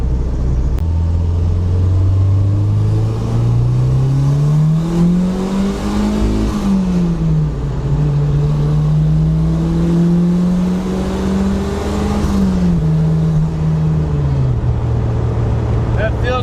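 Turbocharged Datsun wagon engine with a GT3582 turbo, loud and close, revving up and settling back in two smooth climbs, with a steady rumble underneath.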